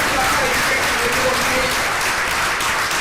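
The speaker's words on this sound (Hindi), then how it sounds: "तो सतीश पंडित जी हमारी ग्रेट अपलाइन एक बार जोरदार ताली" Loud, sustained applause from an audience at an RCM success celebration event in Chandigarh, with dense steady clapping filling the whole stretch and no gaps.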